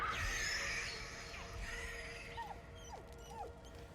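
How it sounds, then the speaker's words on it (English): In the video game Baldur's Gate 3, a dog whines in a few short, faint, rising whimpers at a distance over a low ambient game soundscape. "I hear dog whining."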